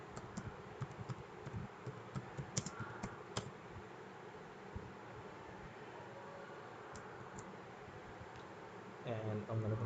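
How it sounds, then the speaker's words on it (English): Soft keystrokes tap on a computer keyboard in quick irregular runs, then fade into quiet hum, with a brief rustle near the end. "let me type something here very simple"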